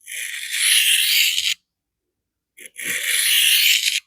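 Coarse diamond sharpening plate under a Maxamet steel knife edge making two long, close, raspy leading strokes, each about a second and a half, separated by a brief silence, with no voices.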